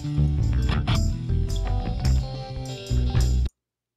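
Dense mixed music passage run through the airwindows Channel 5 console plugin, full-bodied with strong low end and busy harmonic layers, playing steadily for about three and a half seconds before cutting to silence.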